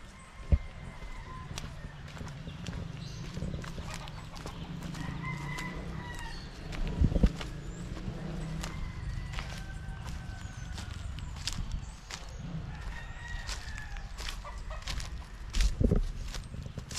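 Chickens cluck and a rooster crows intermittently outdoors in a rural Dominican Republic riverside area, with scattered sharp knocks and clattering sounds mixed in.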